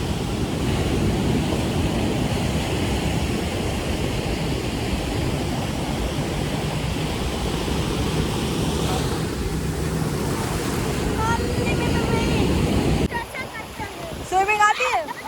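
Steady evening wind rushes past fast-flowing water, a dense broadband roar with surf-like wash that holds loud and unbroken for most of the stretch, then drops away near the end as brief voices and clatter come through.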